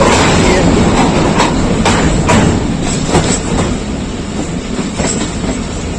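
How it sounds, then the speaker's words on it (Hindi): The 106 Down Rawal Express rolling into Lahore Junction, a loud continuous rumble of wheels with rhythmic clickety-clack over rail joints, close by on the platform. "लाहौर जंक्शन पहुंच रही है 106 डाउन रावल एक्सप्रेस।"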